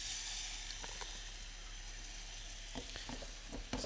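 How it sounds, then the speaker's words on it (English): Lamb sizzles in standard oil in a fry pan on the stove, a constant close frying hiss with a few small pops and crackles near the end. "we want to sear that lamb"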